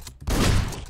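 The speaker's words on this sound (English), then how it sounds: "I think you have to shoot this man a lot, it seems." Gunfire in the top-down action game Hotline Miami comes as a short, loud burst of rapid shots, close and punchy, following a brief quieter lead-in.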